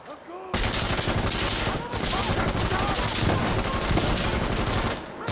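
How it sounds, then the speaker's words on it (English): Rapid bursts of gunfire from a tactical first-person shooter game, dense and continuous for several seconds with sharp repeated shots, close and loud, a faint voice briefly underneath. "What are these shots right now?"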